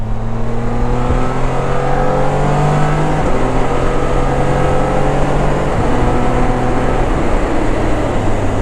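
A Can-Am Spyder RT Limited three-wheeler rides through a bend on a small road, its engine droning loud and close with shifting pitch as it accelerates and eases off, under heavy wind rush.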